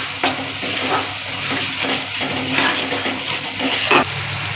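Grated tomato purée sautéing with marinated mutton in a pan, a steady close sizzle with a few louder scraping stirs scattered through, no voices.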